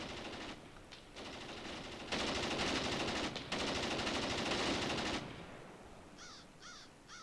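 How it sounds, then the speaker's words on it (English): Heavy machine gun fire from German lines in a WWII Graviteam battle game crackles in several sustained bursts, fairly faint and distant, with short bird-like calls near the end. "Heavy machine gun fire coming from the German lines."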